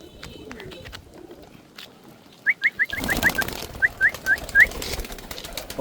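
Domestic pigeons give a run of soft, rhythmic coos and flutters close by, a quick series of short calls after a quieter start with some background handling noise.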